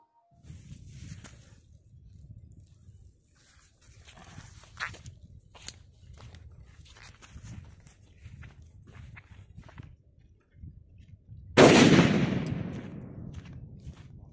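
A Top Tiger bomb firecracker bursts once with a sharp, loud bang at the end, its crackle decaying over a few seconds after a stretch of quiet shuffling and faint outdoor noise.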